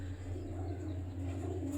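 Pigeons kept by a breeder cooing softly in a loft, a low steady murmur of coos running throughout with a faint hum beneath and no talk.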